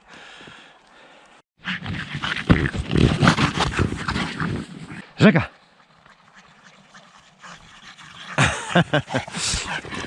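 Dogs pant and scamper close by on the ground in a snowy deciduous forest, their breathing heavy and quick, while a person calls out once between bursts.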